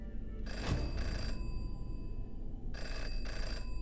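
A telephone rings in the video game Jenny LeClue: two bursts of a bright electronic ringing tone, each about a second long, separated by a gap, steady and loud over a constant low background hum.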